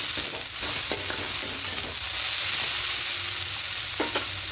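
Red amaranth greens sizzle steadily in a hot pan while a spatula stirs them, scraping and tossing in an even, close-up rhythm with no voices.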